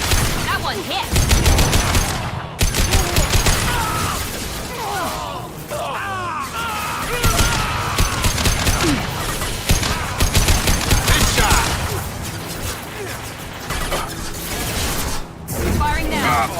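Gunfire in the video game Mass Effect 2 crackles in repeated bursts and rapid volleys throughout a loud battle, mixed with shouting voices, whooshing effects and intermittent short pauses.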